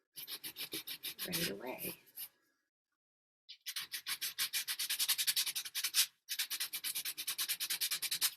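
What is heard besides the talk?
sanding tape-covered magazine page for a collage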